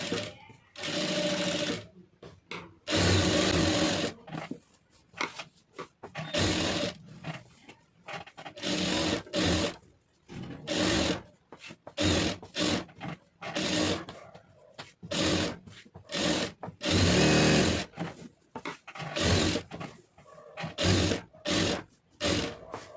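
A domestic sewing machine stitches a lined blouse in rapid bursts of mechanical chatter, starting and stopping repeatedly with short pauses between runs, close and loud, with someone talking in between.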